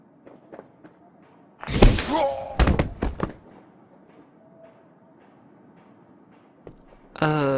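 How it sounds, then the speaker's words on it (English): An in-game explosion in the adventure game Lost Horizon: a couple of heavy booming thuds and crashes in quick succession over a quiet background, then a burst of rushing noise at the end. "Hope no one heard the explosion."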